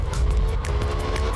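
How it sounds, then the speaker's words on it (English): Car drifting in the Absolute Drift video game, a steady engine drone with tire squeal and skidding running loud throughout, no voices. "That was a good drift."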